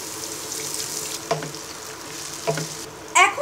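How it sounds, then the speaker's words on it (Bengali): A cup of water splashes into a pan of browned fried onions while making spiced chickpea bhuna. A steady sizzle is broken by several short bursts of hissing splash, the loudest coming last. "পেঁয়াজটা ভাজা হয়ে গেলে এবার দিচ্ছি 1 কাপ পরিমাণ পানি।"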